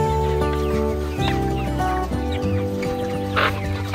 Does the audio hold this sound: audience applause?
no